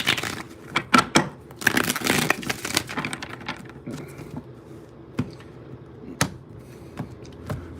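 Tarot cards are shuffled in quick papery riffles and crinkles, followed by a few sparse, sharp taps as the deck settles.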